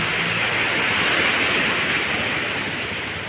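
Ocean waves washing onto the beach at Ilihan, Batangas, heard as a steady, close broadband roar of surf with no distinct breaks, continuous and fairly loud throughout.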